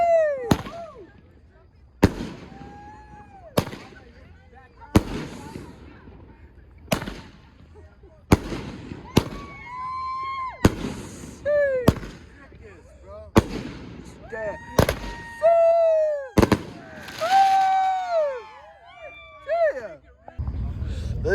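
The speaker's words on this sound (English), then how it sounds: "Watch some fireworks with your boy." Fourth of July fireworks go off in a steady series of sharp, loud bangs and crackles nearby, with whistling rockets between bursts and people talking and exclaiming throughout.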